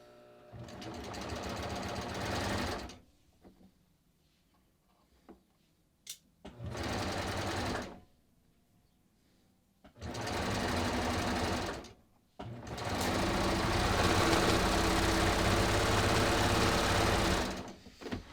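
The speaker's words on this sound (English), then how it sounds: "All right, let's serge this." A serger overlock machine stitches through layers of fabric at a garment neckline and armhole, running in four loud bursts of rapid, buzzing whir separated by short quiet pauses, the last burst longest.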